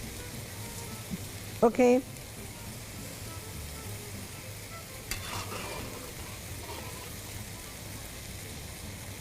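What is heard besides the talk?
minced meat (keema) being fried in a pan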